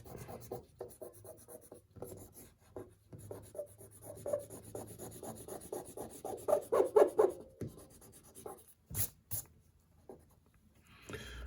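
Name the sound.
eraser rubbing out excess pencil lines on a drawing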